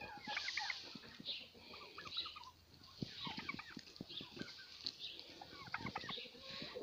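Several backyard hens cluck and chatter in quick overlapping bursts close by, a busy flock sound with no talking, out in the first snow.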